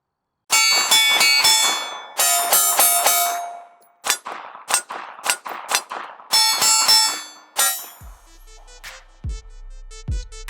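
Rapid strings of 9mm shots from an Arex Delta striker-fired pistol ring off steel targets, sharp bright cracks in quick bursts with metallic clangs and tones decaying between volleys, loud and close.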